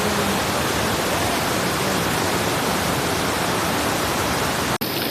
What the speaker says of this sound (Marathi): पाऊस बघा, पाऊस एवढा पडतोय ना भारी, एक नंबर पाऊस पडतोय